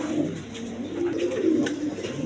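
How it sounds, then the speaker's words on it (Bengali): Green Golap high-flying pigeons coo at a pigeon market, low soft repeated coos close by with faint chirps and background bustle. "এক পেয়ার সবুজ গোলাপ এরকম হাই ফ্লাইং কবুতর"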